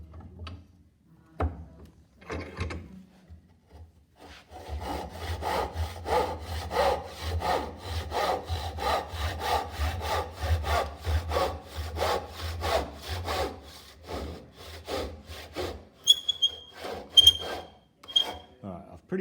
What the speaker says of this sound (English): I'm cutting on a pretty steep angle, and that will help keep our cut at 90 degrees